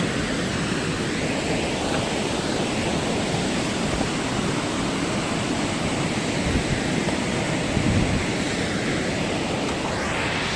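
Tiger Falls, a waterfall in Mabuhay, Agusan del Sur, gives a continuous, dense roar of falling water, steady and loud throughout with no pauses.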